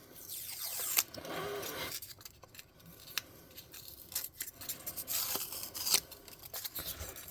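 Cardboard is cut with scissors to make a corpse pile prop for a tabletop role-playing game, heard as several close, rasping snips and tearing scrapes in uneven bursts, with handling noise between cuts and no talking.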